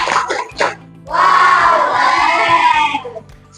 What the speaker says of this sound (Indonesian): kita beri applause untuk kelompok